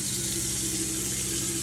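Water pours steadily from a tap in an off-grid home water system, a constant loud hissing rush with a low pump-like hum beneath it.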